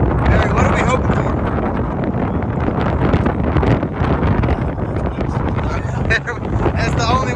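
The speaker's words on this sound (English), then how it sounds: "It's windy!" Steady, heavy wind buffets the microphone throughout, a constant roaring rush with faint voices underneath, at an airstrip top-speed racing event.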